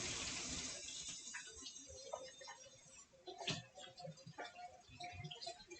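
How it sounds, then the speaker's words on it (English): A faucet runs while hands are washed beneath it, a quiet, continuous splash of tap water broken by soft knocks and shifting flow as the hands move. "let me wash my hands real quick"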